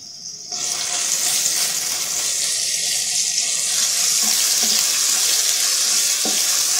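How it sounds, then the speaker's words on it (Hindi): Ginger garlic paste, about 1.5 tablespoons, dropped into hot oil while making besan altay paltay sets off a loud, steady sizzle that starts abruptly and keeps hissing evenly, with a few faint clinks of utensils in the background. "जैसे ही ऑयल गर्म होता है तो हम इसमें अदरक लहसुन का पेस्ट डाल देंगे"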